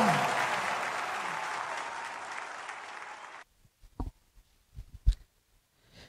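A church congregation at an online Sunday worship service bursts into loud, sustained applause and cheering. It fades and cuts off partway through, leaving a few scattered claps and knocks.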